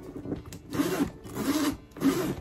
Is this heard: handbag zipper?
yes